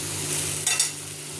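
Spice masala frying in a little oil while being stirred, a close steady sizzle with a brief scraping stir in the middle and a low hum beneath.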